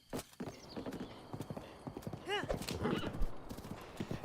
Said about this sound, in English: Summon the horse back.